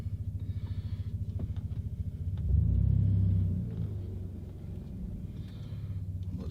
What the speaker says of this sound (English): It already sounds a little bit quieter, like a deeper tone inside the cab.